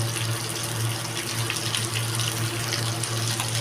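Water poured over mustard seeds and poppy seeds to soak them for a Bengali fish curry: a steady, close gushing pour with a constant low hum underneath and no talk.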